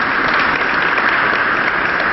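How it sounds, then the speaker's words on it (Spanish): Steady, dense applause from a large crowd at a school anniversary celebration, loud and continuous throughout with no voices rising above it. "quiero que les brindemos un fuerte aplauso de agradecimiento"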